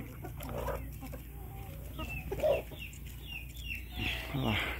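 Chickens clucking and squawking while pecking at corn in a farmyard, several close, irregular clucks and short calls scattered over a low background hum, with no voices.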